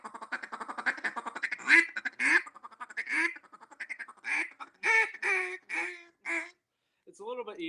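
A double reed duck call blows a series of raspy quacks, short bursts then longer drawn-out notes, loud and close, ending with a quick chatter.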